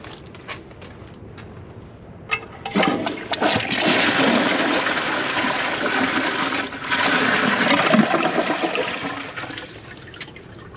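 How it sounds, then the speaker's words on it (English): A Kohler Wellworth Class 5 toilet from 2015 flushes with its handle held down, a loud rushing gush of water building after a quiet start and sustained for several seconds before tapering, with no talk. "I'm going to hold the handle down for this test."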